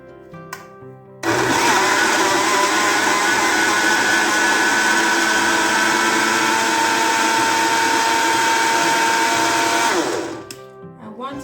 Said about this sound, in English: So now it's time to blend everything together.